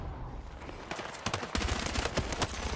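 P90 submachine gun firing in the video game Battlefield 6, a dense rapid stream of automatic shots with sharp crackling reports over a continuous loud wash of battle noise, heard in a short burst.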